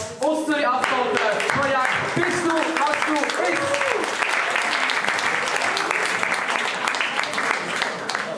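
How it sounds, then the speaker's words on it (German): Warm studio applause greets guests from Zürich Affoltern on the cooking show Du bist was du isst, dense clapping sustained for several seconds with a voice speaking over the start. "Begrüßen Sie mit einem herzlichen Applaus aus Zürich Affoltern."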